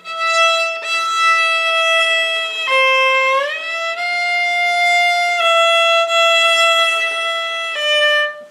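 A solo violin plays sustained notes, sliding audibly between pitches in a few smooth glissando shifts, clear and close.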